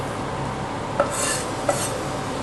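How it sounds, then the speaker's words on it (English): Spoon stirring chopped coriander through food in a cooking pot, a soft scraping swirl with two brief clinks against the metal, close up with no voices. "I'll give that a good old stir in there, mix it all around."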